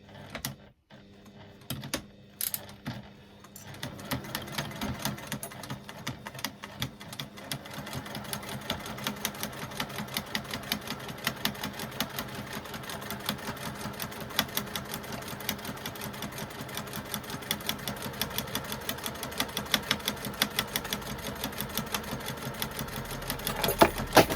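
A sewing machine stitches a zipper seam on a fabric bag with a 3/8 inch seam allowance, a fast, steady mechanical rattle running nearly continuously after a few brief starts and stops at the beginning.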